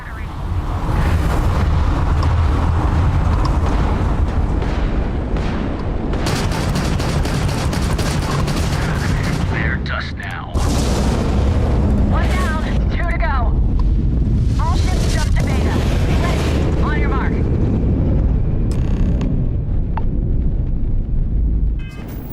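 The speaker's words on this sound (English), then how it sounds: "So we launched a few missiles at it." Missiles striking a ship in the space combat of the video game Starfield: loud, rumbling blasts and roaring bursts layered over a constant heavy engine-like drone, with a few whooshing and warbling effects between them.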